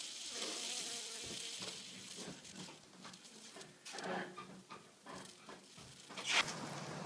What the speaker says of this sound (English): It feels a bit weird because they're buzzing away like mad.